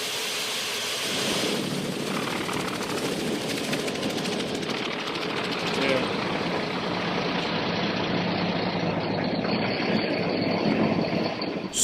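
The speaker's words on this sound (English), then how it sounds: "After final inspections, the engine mechanics signal pilots to start the engines." Mi-35 military attack helicopter engines starting up and running, a loud, steady, broadband turbine and rotor roar that holds constant and swells slightly toward the end, with no talking.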